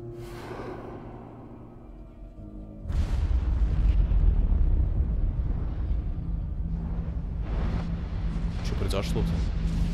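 Explosions and collapsing structures in the video game Assassin's Creed Syndicate, set in London: a sudden heavy boom breaks in after a quieter start, followed by a sustained loud rumble of crumbling debris, with voices faintly underneath.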